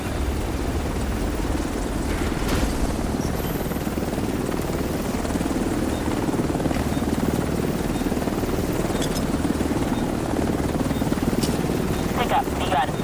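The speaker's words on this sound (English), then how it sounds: "Helo is on site." A helicopter hovers and settles over the extraction zone in the video game The Division 2, its steady, loud rotor drone running throughout under faint game effects.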